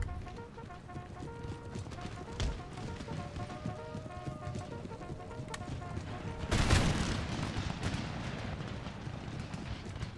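Infantry musket volley in Empire: Total War, a sudden loud crackling burst of massed shots that rises out of a busy battlefield din of hooves and distant rumble and then lingers; a voice talks faintly underneath.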